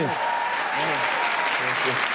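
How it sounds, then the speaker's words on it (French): An audience applauds Émeric on a French radio show, giving a brief burst of dense clapping under a voice speaking over it. "On peut applaudir Émeric parce qu'il n'a pas démérité"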